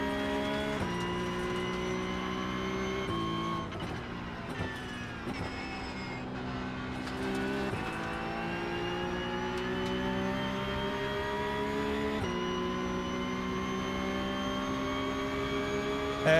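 Race car engine in a sim racing video game, a sustained droning whine that holds steady pitch with brief shifts and dips, loud and continuous throughout with no talk.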